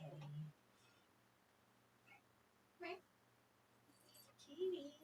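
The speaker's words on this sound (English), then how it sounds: "Baby kitty." A cat meows a few times, short and faint, spaced out over quiet room noise with a low steady hum.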